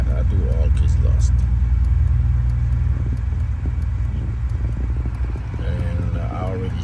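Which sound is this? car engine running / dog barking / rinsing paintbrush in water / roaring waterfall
car engine running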